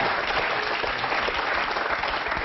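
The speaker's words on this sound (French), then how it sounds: "Bravo, on l'applaudit." Dense, steady applause from a studio audience during a French television interview, a continuous wash of many hands clapping at even loudness with no voices on top.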